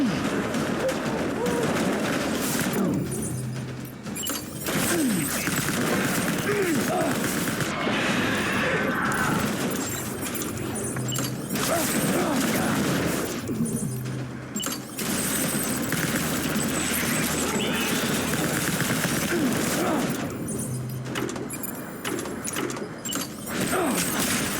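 Battle gunfire from the video game Death Stranding: dense, nearly continuous volleys of shots and blasts stay loud for the whole stretch, with brief dips in intensity.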